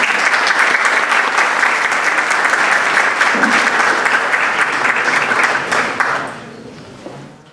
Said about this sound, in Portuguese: Uma salva de palmas para o próximo